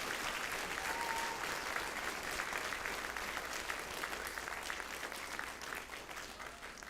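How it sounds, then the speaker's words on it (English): A school assembly audience of students and guests gives a round of applause at a Veteran's Day assembly, steady even clapping heard from a distance, sustained throughout and slowly easing near the end. "let's thank Mr. Allison one more time with a round of applause"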